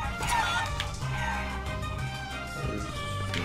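Chickens cluck repeatedly in the video game Guacamelee over a busy, steady background bed, the calls fairly close and continuous throughout.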